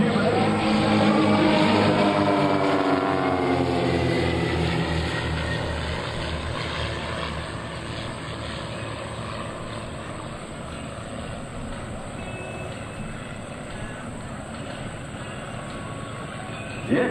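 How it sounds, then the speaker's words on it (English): Pitts S-Series biplanes fly over an air show at a naval air station, a steady, loud engine drone that is strongest early on and eases slightly as the planes move away. "The aircraft you're watching today are the world's famous Pitts S-Series biplane aircraft"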